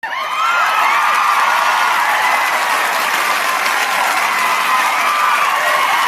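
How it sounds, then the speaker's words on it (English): A large crowd cheers and applauds continuously, loud and close, with whoops and shouts blending into a steady roar that lasts throughout. "Wow, everyone's cheering at me."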